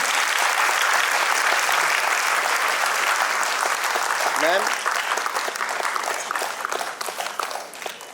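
An audience at a felicitation ceremony for newly literate adults in Chandigarh claps loudly and continuously, the dense applause thinning toward the end while a voice speaks briefly over it.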